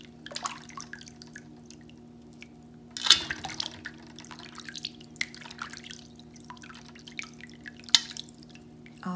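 Water dripping and trickling while wool is wetted to felt a bar of soap, faint and close, with scattered soft drips and splashes over a low steady hum.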